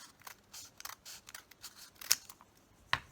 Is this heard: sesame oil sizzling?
no